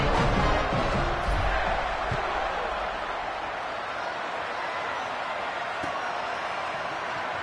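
Home football crowd in a college football video game, a loud continuous roar of stadium noise sustained throughout, with a commentator talking over it.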